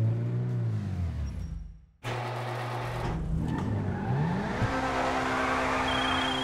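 An Invetero Coquette D10 sports car in GTA Online pulls away, its engine revving and climbing through the gears with a brief drop in power between shifts, loud and close with no talking.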